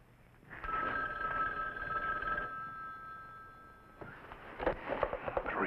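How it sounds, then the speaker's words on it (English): An old telephone bell rings in a steady electric trill for about two seconds, fairly loud in a quiet room in a 1961 detective drama. Rustling and faint movement follow. "All right, answer the phone."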